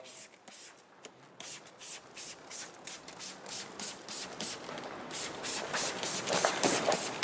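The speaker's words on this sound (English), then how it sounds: "Spray it down as much as you like." All-purpose cleaner sprayed across a car engine bay during detailing, a quick series of short hissing spray bursts that start sparse and grow denser and louder, with brief pauses between squeezes and a voice talking faintly.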